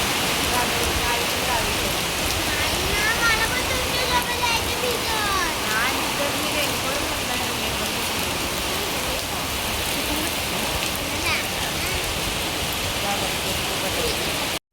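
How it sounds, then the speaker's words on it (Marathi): Heavy monsoon rain pours steadily outdoors as a dense, continuous hiss that stays loud throughout, with faint voices talking beneath it. "कारण का इतका सारा पाऊस होता ना"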